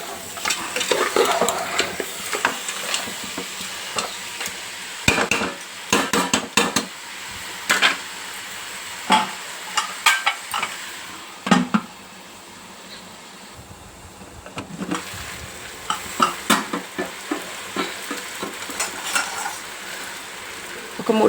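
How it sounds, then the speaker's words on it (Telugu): Mutton head pieces fry in oil in a pan, a steady soft sizzle broken by repeated sharp scrapes and clinks of a spoon stirring against the metal, close and without speech. "ఇది కూడా మంచిగా నూనెలో 5-6 నిమిషాలు వేగనిద్దాం."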